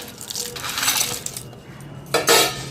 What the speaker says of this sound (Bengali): ভেজে রাখা বড়িগুলোও দিয়ে দিচ্ছি এখানে